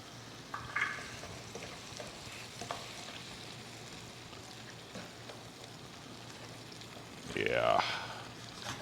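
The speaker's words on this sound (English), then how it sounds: "I just want to add just about an ounce or so of butter." Butter sizzling with garlic in a hot pan gives a soft, steady crackling fry close by, with occasional clinks and a voice speaking briefly near the end.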